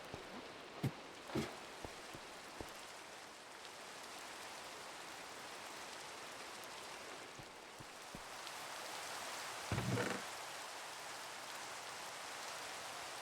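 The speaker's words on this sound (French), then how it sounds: "il pleut." Steady rain in a hardcore survival video game hisses evenly throughout, with a few brief louder taps and splashes standing out in the first seconds and again near the tenth second.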